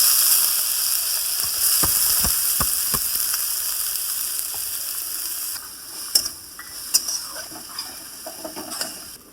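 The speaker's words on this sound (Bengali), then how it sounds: "তেলের উপরে কাঁচা লঙ্কাটা দিয়ে দিচ্ছি মূলো শাকটা দিয়ে দিচ্ছি" Radish greens and green chilies fry in hot oil with a loud, close hiss that settles down after a few seconds, punctuated by sharp clicks and clinks of a spatula against the pan.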